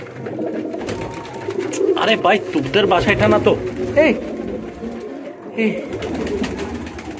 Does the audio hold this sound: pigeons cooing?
yes